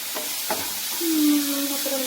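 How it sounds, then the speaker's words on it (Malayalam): Onions softening in a pan for a chapati dish, a soft sizzle with a few light stirring knocks and a brief thin tonal whine midway. "സവാള ഇങ്ങനെ വാടിക്കൊണ്ടിരിക്കുക നമ്മുടെ സവാളയൊക്കെ ഏകദേശം വാടി തുടങ്ങിട്ടോ"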